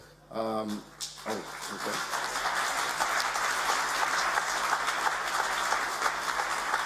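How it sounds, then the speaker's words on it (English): Crowd applause builds after a brief voice and holds steady, a dense wash of many hands clapping in a large room at a talk on disaster risk reduction. "May I now request you for a round of applause."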